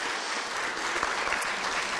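Audience applause at an academic writing conference keynote, a fairly faint, continuous spatter of clapping from the crowd with a few sharper individual claps standing out.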